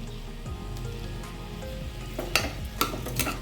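Bottle gourd and lentil curry being mixed in a pot, a soft simmering sizzle under a low hum, then a few louder spoon scrapes and clatters near the end, close by, no talking.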